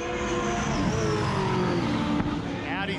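Roll racing cars launch from a rolling start, engines roaring loud and close with rising revs, while a voice talks excitedly over the noise.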